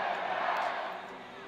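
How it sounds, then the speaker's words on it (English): Home crowd cheering loudly for Jordan Burroughs at a wrestling match against Kyle Dake, a dense continuous roar of voices that holds strong and slowly eases. "Cheers from the home crowd for Burroughs"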